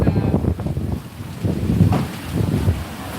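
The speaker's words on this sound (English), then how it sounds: "God, it's getting very windy." Strong wind buffets the microphone in loud, uneven gusts, roaring and rumbling in bursts with brief lulls between.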